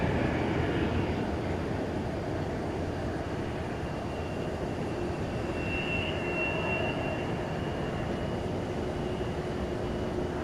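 An Airbus A321 takes off from DFW airport at night, a steady broad engine roar heard from a distance that holds at an even level throughout, with a faint higher whine in the middle and no voices.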